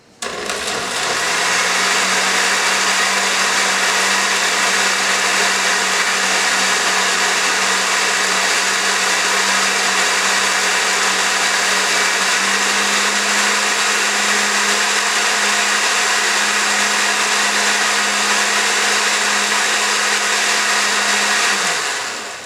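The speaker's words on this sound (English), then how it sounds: "it's time to fire up the blender." A blender whirs loudly and steadily for about twenty seconds, its motor pitch holding constant before it winds down at the end.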